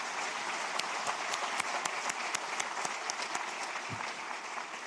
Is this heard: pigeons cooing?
no